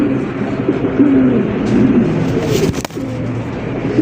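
Indian Bombay pigeon cooing, a white bird at close range, with low rolling coos over a steady hum of background noise and a brief clatter near the end.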